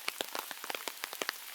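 Rain falls on a wooded path outside a forest library in Seoul, with scattered close drops pattering and ticking on surfaces in an irregular rhythm over a quiet background.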